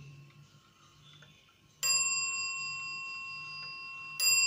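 A German wall clock chimes the hour as its hammer strikes a gong twice, each clear ringing strike sustaining and slowly fading, with soft ticking beforehand.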